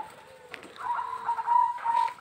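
Zebra dove (perkutut) calling at a bird farm in Ngawi, a soft tonal cooing phrase rising from about halfway through, moderately close, with faint background bird sounds and no talk.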